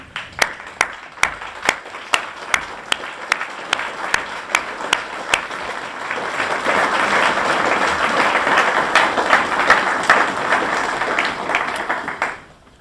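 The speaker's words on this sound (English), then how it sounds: "Will everyone please stand and join me in a round of applause to thank all the donors" An audience at a football center dedication ceremony applauds donors, starting with scattered sharp individual claps that swell into sustained, dense applause from a crowd before stopping abruptly.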